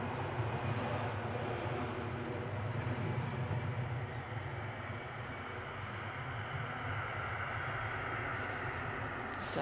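An EasyJet jet takes off from runway 05 left at Manchester Airport, a faint, distant broadband roar holding steady throughout with no talk over it.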